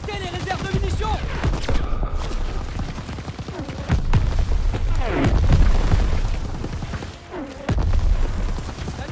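An ammunition depot blows up in the World War II shooter Call of Duty WWII, with a run of loud, heavy booms and crackling bursts that keep going as voices shout over them.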